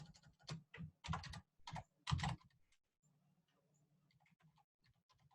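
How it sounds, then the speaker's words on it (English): Typing on a computer keyboard while writing C# code: a quick run of crisp, close key clicks in clusters for about two seconds, then a pause with only faint scattered taps over a low hum. "So here, I'll type that."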